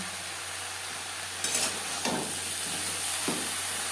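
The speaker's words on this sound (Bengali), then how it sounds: "হাইটি মিডিয়াম ফ্লেমে চার পাঁচ মিনিট নাড়াচাড়া করে নেব" Katla fish curry with brinjal sizzles in a pan over a medium flame as turmeric and salt are stirred in, a steady frying hiss broken by a few scraping stirs.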